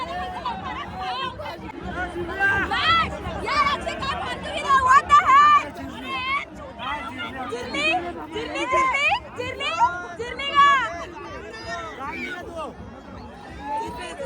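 Dense babble of a large crowd of devotees packed together at the Ekvira Chaitra palkhi festival, many overlapping voices close and loud, steady throughout with nearby people talking.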